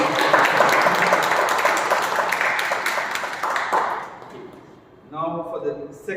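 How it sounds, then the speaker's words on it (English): A meeting audience bursts into a round of applause, many hands clapping steadily and close for about four seconds before fading, then a voice starts talking. "Clap again."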